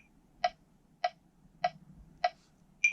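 Pro Metronome app set to 5/8, ticking evenly about every 0.6 seconds with four plain clicks followed by a brighter, higher accented click that starts the next bar.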